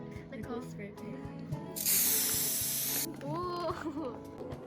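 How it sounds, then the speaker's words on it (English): A can of spray paint lets out one loud, steady hiss of about a second and a half while getting ready for a school cultural night, with girls chatting quietly before and after. "spray paint"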